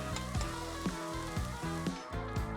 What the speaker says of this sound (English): I'm browning our diced onion in some oil in a medium-sized pot here.